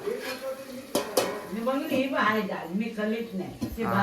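A metal lid clanks onto a cooking pot of gravy on a gas stove, with a couple of sharp knocks among softer rattles, while people talk over it.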